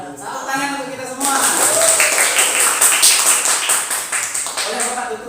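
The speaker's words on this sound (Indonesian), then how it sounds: "Tepuk tangan untuk kita semua." Classroom applause for a micro-teaching lesson: a sustained burst of many hands clapping, close and loud, swelling in after a brief opening and running steadily to the end, with voices audible at the start and fading into the final moments.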